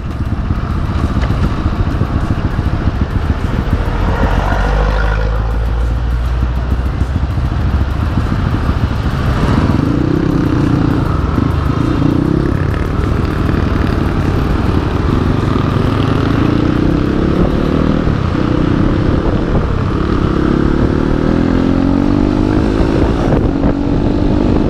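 Kawasaki KLX supermoto bored up to 240cc, its engine droning steadily and loud while riding, with rising and falling pitch as the throttle is worked, alone without talk.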